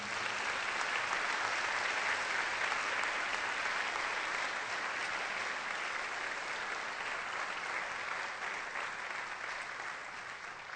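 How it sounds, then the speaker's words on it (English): Sustained applause from an audience honoring three people at a keynote event, steady dense clapping throughout that tapers slightly toward the end, with no voices over it. "Let's give our three honorees another hand"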